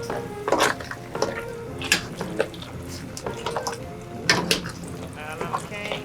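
A seafood gumbo mixture being stirred in a pot, with wet, pasty scraping and clinks of a utensil against the pot in an uneven rhythm, close and moderately loud.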